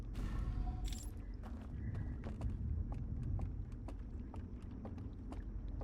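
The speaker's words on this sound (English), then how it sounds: "The sound of those footprints freaks me out." Footsteps in the video game Outer Wilds: Echoes of the Eye land in a steady series of sharp, knocking clip-clop taps over a low rumbling ambience, faint and evenly paced with no voices.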